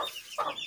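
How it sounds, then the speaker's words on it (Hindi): Aseel chicks give a brief pair of soft, high clucks and chirps at close range, with faint background noise. "ये छोटे चिक्स, सारे असील हैं"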